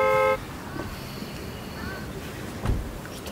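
A car horn gives one short, loud toot right at the start, then fades into a quiet background of distant traffic with faint voices.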